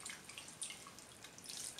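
Water poured into a frying pan of pork ribs, a soft continuous splashing trickle with a hiss of liquid, fairly quiet and close, with no voices.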